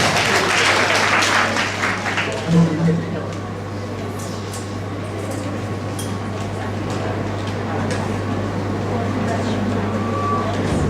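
An audience at a university speech competition applauds as a student competitor is welcomed, clapping strongest at first and then thinning under a steady hum of air conditioning, with talking in the room.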